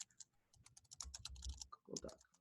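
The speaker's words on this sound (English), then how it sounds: "And let me type it in here." Typing on a computer keyboard while entering a web address, a quick run of close, crisp key clicks with a few heavier thumps, steady for about two seconds with no talking.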